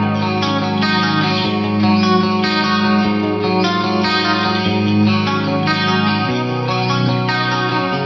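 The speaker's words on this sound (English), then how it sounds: "This is the phaser with a clean sound very quickly." Clean electric guitar chords run through a phaser with hall reverb on a Kawai RV4 effects unit, sweeping and swirling as each strum rings out in a steady rhythm, alone with no voices.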